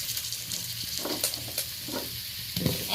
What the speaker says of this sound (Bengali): মাছ ভাজার পরে যে তেলটুকু রয়েছে আমি ওতেই আলুগুলো ভেজে